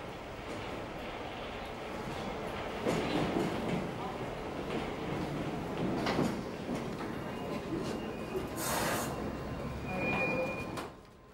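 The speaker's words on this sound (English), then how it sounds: "This is a train of 1973 tube stock" A London Underground 1973 tube stock train runs near Hammersmith with a steady, broad rumble and rattle that swells and eases, and a brief hiss near the end, while a voice talks over it.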